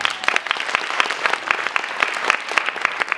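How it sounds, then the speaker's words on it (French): Audience applause for a hip-hop dance group's performance at a dance contest, a steady patter of many hands clapping at close range with no voices over it. "Ça s'applaudit."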